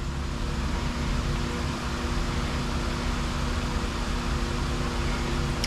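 A Pontiac car engine runs at a steady idle close by, a constant broadband mechanical roar with no voices over it.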